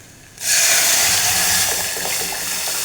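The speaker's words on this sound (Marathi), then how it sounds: "छान परतून झालं की ह्याच्यामध्ये हे ओतून घ्यायचं" Lentil mixture for dalcha is poured into a hot pan, setting off a sudden loud, rushing hiss after a moment of near quiet that then holds steady for a few seconds.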